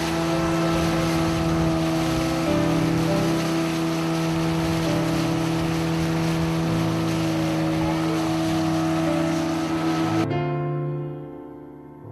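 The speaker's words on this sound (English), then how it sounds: "We have been in this engine boat for close to 5 minutes." A motorboat engine on a river in Douala drones steadily and loudly with a constant hum, then cuts off abruptly near the end leaving a fading tail.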